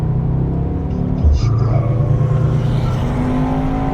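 A 2021 Mercedes-AMG E63 S 4MATIC estate accelerating in Sport Plus mode, with a loud, steady engine rumble that swells and deepens partway through, heard close from the cabin with no talk.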